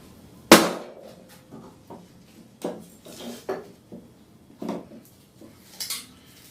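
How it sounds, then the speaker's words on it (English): A big hammer strikes a cutter to form a self nock in a wooden arrow shaft: one loud, sharp metallic impact up close, followed by several lighter clanks and knocks as the tool is handled. "Load the cutter. Close. And hit with a big hammer."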